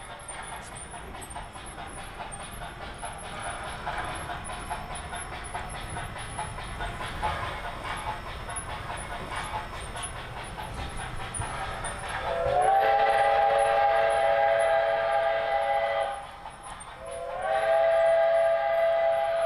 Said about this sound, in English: this is the very end of the layout with the locomotive passing by the future